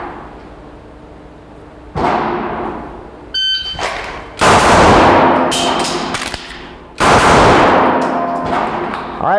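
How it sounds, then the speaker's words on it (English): Sharp, loud pistol shots from a Smith & Wesson M&P at a shooting drill, each a sudden broadband crack with a lingering ring-out, spaced a couple of seconds apart, with no talking. "I'm going to draw, fire 2, reload"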